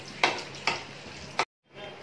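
Whole spices, star anise, cloves, green and black cardamom and black peppercorns, sizzle in hot oil for chicken biryani, giving a soft, close frying hiss with a few brief stirring clacks before a sudden cutoff.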